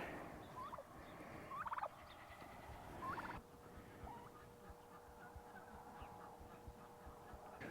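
Turkeys gobble on a small family farm that also keeps sheep, a milk cow, chickens and ducks. Several short gobbling bursts come faint and distant over quiet outdoor background noise.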